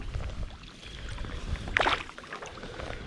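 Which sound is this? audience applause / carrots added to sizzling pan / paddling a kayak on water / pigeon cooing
paddling a kayak on water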